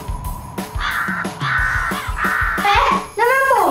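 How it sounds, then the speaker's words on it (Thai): Crows caw repeatedly and loudly at close range, the harsh calls overlapping in an irregular rhythm over faint background sound. "นกอีกานี่ทำไมเยอะจัง"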